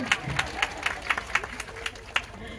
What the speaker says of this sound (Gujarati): તાળી તો પાડવી જ પડે